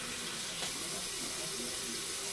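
Tap water runs steadily into a sink during a face wash, a close, even rushing stream with no talk over it.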